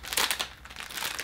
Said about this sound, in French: Ok, bon je ne sais pas ce que c'est, on va le déballer.